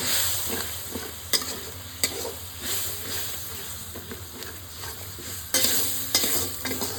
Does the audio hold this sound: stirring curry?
yes